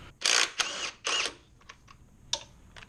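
A Milwaukee M12 12-volt cordless ratchet backs out bolts while a 2007-2013 MINI Cooper R56 water pump is removed: two short whirring bursts, a pause, another burst, then faint clicks and one more brief spin, close and fairly quiet.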